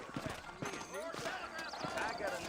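Horse hooves clip-clopping on the ground in the video game Red Dead Redemption, a run of quick, moderately close hoofbeats under steady background noise, with people talking over them.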